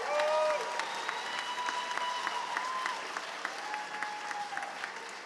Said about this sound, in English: This deserves a round of applause.